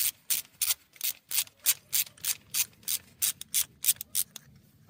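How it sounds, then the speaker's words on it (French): A 10 mm socket on a ratchet loosens the ignition coil bolts on a VAG 1.5 TSI engine, making a quiet, close, evenly paced series of about a dozen short rasping ratchet strokes. "vous prenez une douille de 10 et vous desserrez chacune des bobines"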